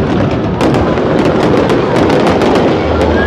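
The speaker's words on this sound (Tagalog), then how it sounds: "Fireworks worth 3 hours." Dense, continuous Chinese New Year fireworks bursting nearby at Jones Bridge, Manila, rapid overlapping pops and crackles with a deep rumbling boom underneath.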